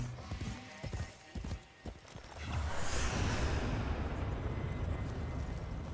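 Hooves of a galloping horse in the Warframe game world clatter through the opening seconds, then a sustained roaring whoosh, like a dash or blast, takes over and drowns them out.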